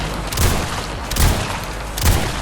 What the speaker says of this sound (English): so let's go back to the shotty.